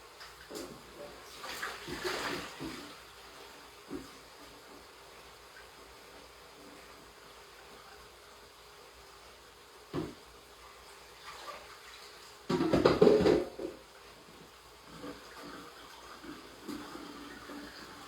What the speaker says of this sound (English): These potatoes over here to drain.